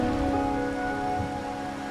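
Steady rain falls on surfaces in the Wuthering Waves video game, a continuous close hiss with faint drops, carrying on evenly under a sustained musical tone.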